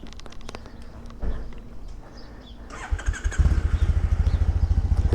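A Triumph Bonneville SE motorcycle starts up outdoors, moving from quiet mechanical handling and a few clunks to a loud, close engine that settles into a steady, pulsing idle.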